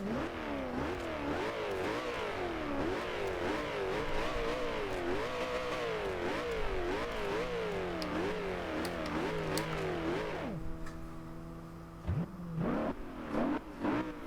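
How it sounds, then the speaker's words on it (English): A 2011 Koenigsegg Agera engine in the video game Forza Horizon 2, loud and continuous, revving up and down rapidly through repeated cycles, then settling into a steadier drone with a few sharp blips near the end. "you can definitely hear the turbocharger spooling in the cockpit view"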